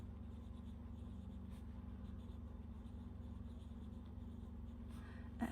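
A Visconti Van Gogh fountain pen with a medium nib scratches faintly and steadily across paper, close up, over a constant low background hum.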